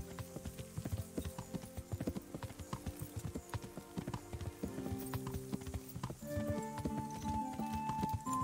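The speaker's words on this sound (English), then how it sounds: "Go down to a canter coming through town." Horse cantering through a medieval town in Kingdom Come: Deliverance, rapid rhythmic hoofbeat clip-clops on the ground, fairly quiet and steady, with a brief tack jingle near the end.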